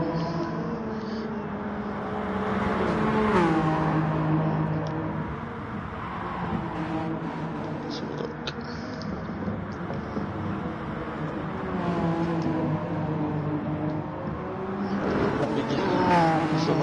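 Race cars in the GT Sport racing game, a continuous engine whine that rises and falls as the cars shift and pass, fairly loud, with commentators talking over it.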